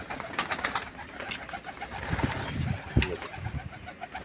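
Pigeons coo softly in a steady, repeated rhythm, with flutters and light rustling close by.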